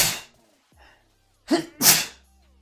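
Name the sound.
sneeze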